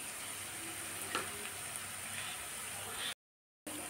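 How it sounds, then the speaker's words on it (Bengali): Chopped onions sprinkled with a little salt fry in a pan with a continuous close sizzle and a few stirring scrapes, cutting to silence briefly before resuming. "এবার পেঁয়াজ কুচিগুলো আমি দিয়ে লাল লাল করে ভেজে নেব।"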